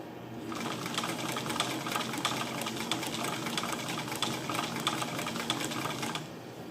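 A sewing machine running a stretch stitch during stitch testing, a steady, fast mechanical whirring clatter that starts abruptly, holds for about six seconds close up, then stops, with no voices.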